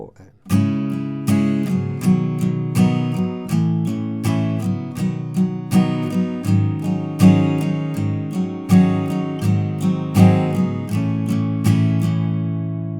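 Acoustic guitar strumming the opening chord progression of a song, a steady four-beat strum with regular rhythmic accents, close and full, played alone with no voice.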